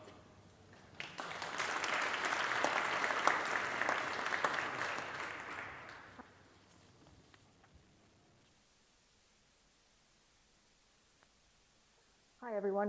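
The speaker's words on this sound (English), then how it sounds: "Please give her a warm round of applause." An audience at an astronaut panel event claps in a steady burst of applause lasting several seconds, then fades away into near silence.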